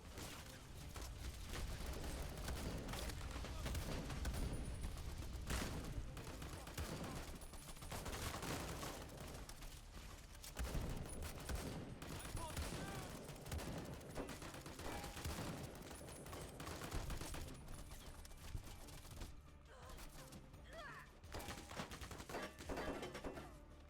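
Sustained bursts of gunfire and rapid automatic shots fill a Fallout: The Frontier firefight, dense and loud throughout with occasional heavier booms and no talk.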